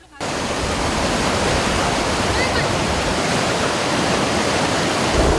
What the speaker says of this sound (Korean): 높이의 폭포가 90도 수직으로 암벽을 때리며 떨어지는 모습이 장관이다